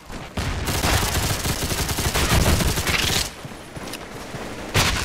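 Uzi submachine gun firing in a Roblox gun game, a loud, dense sustained burst of rapid shots for several seconds, easing briefly before a final sharp burst.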